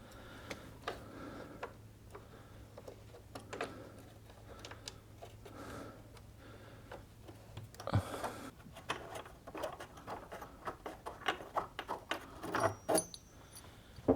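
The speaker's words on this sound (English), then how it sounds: "Hopefully I can remove it with just a simple wrench" A wrench works loose a socket head bolt on a work bench, giving a run of faint, rapid ratcheting ticks that grow louder and more clustered toward the end, with a few sharper knocks and no talk.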